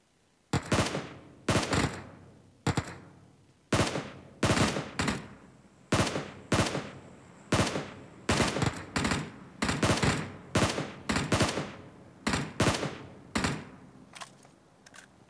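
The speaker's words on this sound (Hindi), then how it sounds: "भाई मैंने इतनी गोलियां मारी झाड़ियों पे और बंदे को एक गोली भी नहीं लगी" Gunfire in the PUBG Mobile video game, aimed into bushes: a long string of loud, sharp shots in short bursts and single cracks, each trailed by a brief echo, with no voices.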